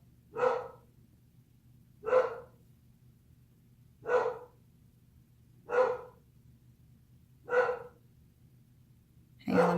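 A pit bull indoors in Vermont barks in single deep, loud woofs, six of them evenly spaced about every two seconds, over a low steady hum.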